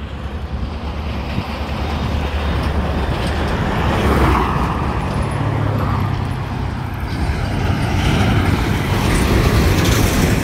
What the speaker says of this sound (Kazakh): ушул деңгээлде өтө катуу жүрүшөт машиналар